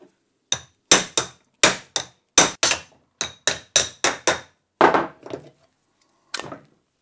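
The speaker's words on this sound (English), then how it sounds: "I'm just using the vise to support the block as I hammer the shaft out." A hammer driving a shaft out of a bearing block supported in a vise, about a dozen sharp, ringing metallic blows at an uneven pace, loud and close, with the last few strikes more spaced out.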